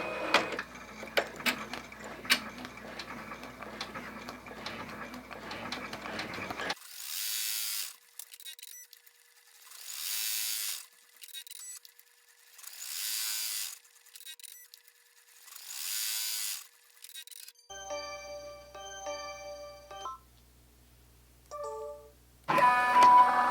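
An embroidery machine tacking down fabric stitches in several bursts, a steady buzzing rattle that starts and stops repeatedly, with quiet pauses between runs.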